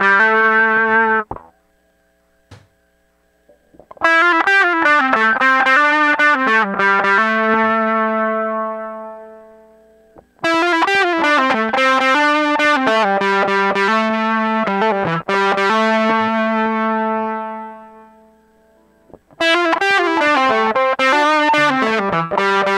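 Roland GR-100 vintage analog guitar synthesizer with its voltage-controlled filter's resonance turned all the way down, loud buzzy sustained synth phrases separated by short silences.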